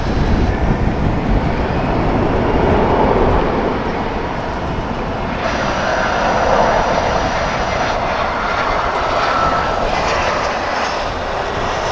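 An American Airlines jet landing on runway 17 left at DFW Airport roars loudly and steadily with a broad, rumbling engine wash that shifts tone partway through as it passes.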